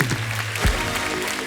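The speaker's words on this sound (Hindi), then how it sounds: "भाग्यश्री जी के लिए एक बार जोरदार ताली हो जाए।" Studio audience applause on a Hindi TV comedy show, a short burst of clapping with music underneath and a brief thump partway through.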